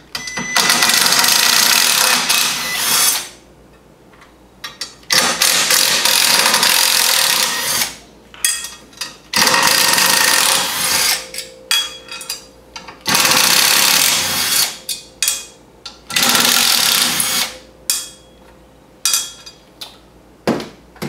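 Power driver with a T30 bit running out the six bolts of a CVT secondary cap on a Wildcat Sport, in repeated loud whirring bursts separated by short pauses, close to the mic.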